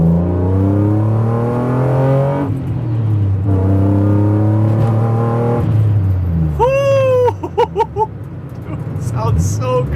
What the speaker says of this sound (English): I'm so freaking stoked on this exhaust, man.